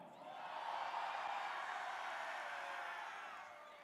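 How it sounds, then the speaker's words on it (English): Crowd at a regional competition cheering in a steady, distant wash of noise that swells slightly and fades over a few seconds, faint and without distinct voices. "And the crowd goes wild."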